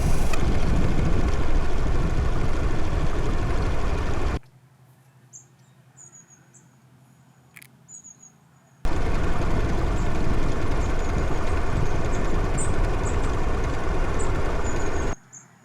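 A Stirling engine driving a bicycle gives a steady, loud mechanical whirring for several seconds, cuts out to near silence with faint squeaks, then resumes at the same even level.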